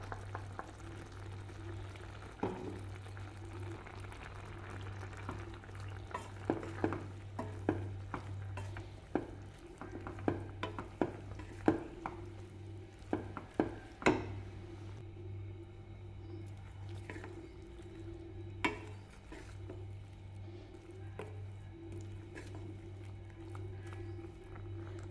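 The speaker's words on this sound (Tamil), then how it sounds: "இப்போ அரைச்ச தேங்காய், பச்சை மிளகாய், சீரகம் சேர்த்துக்கலாங்க." Ground coconut paste with green chilli and cumin being stirred into a simmering snake gourd kootu, with soft wet squishing and spoon scrapes against the pot over a steady low hum, briefly busier in the middle.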